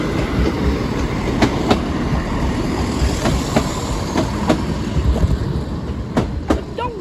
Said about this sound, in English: Keep hearing like train noise.